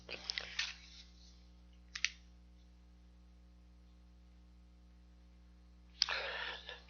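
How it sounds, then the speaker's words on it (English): A few quick bursts of clicking keys on a computer keyboard, separated by near-silent gaps over a steady electrical hum, close and faint, as someone types over a spreadsheet cell. "I just click on the cell, type over it."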